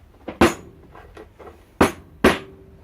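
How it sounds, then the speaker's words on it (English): Several sharp hammer blows drive a part down to press-fit it during a scratch-built flashlight assembly, landing as distinct, spaced strikes with a short ringing tail and one lighter tap between them. "So excuse my belligerence while I hammer this down."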